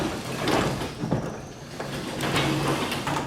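A garage door lifted by hand rolls upward with a continuous rumbling, rattling scrape, fairly loud and close, lasting a few seconds.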